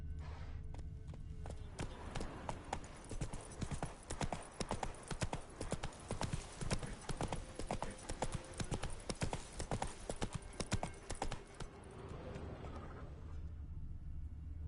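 Roach the horse gallops in The Witcher 3: Wild Hunt, steady rapid hoofbeats drumming close and loud across most of the stretch, with a brief whinny and a rider's voice spoken over the run before the hooves ease off near the end.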